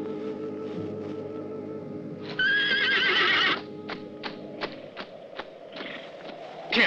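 Horses whinny loudly in a burst at mid-clip, with stamping hooves and clip-clop thuds scattered before and after, all fairly close in a quiet outdoor night scene.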